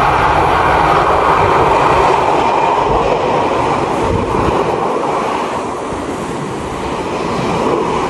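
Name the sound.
Japanese local train passing noisily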